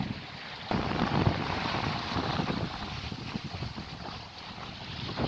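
Strong wind buffets a sailboat with a double reef sailing the Thames Estuary, a steady loud roar of wind noise on the microphone with rushing water beneath and no voices.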